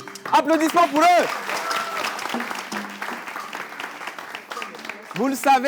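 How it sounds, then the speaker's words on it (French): Studio audience at a French TV entertainment show semi-final applauding, the clapping running under loud speech from hosts at the start and end of the stretch. "Applaudissements pour eux."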